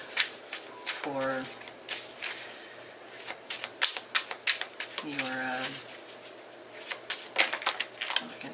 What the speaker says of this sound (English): I'm not even shuffling the right deck.